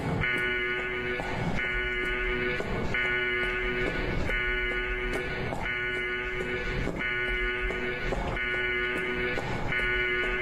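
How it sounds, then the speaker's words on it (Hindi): An alarm blares in a horror video game, a loud, steady electronic buzzing tone broken by rhythmic pulses about every second, with no talk over it. "अलार्म बज रहा है।"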